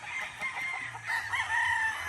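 A gamefowl rooster on a gamefarm crows in one drawn-out call at a moderate distance, alone against quiet outdoor background noise.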